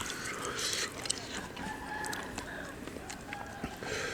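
A rooster crows in the distance in a rural Thai village, thin and faint against steady outdoor background noise, with a couple of brief calls and no talk.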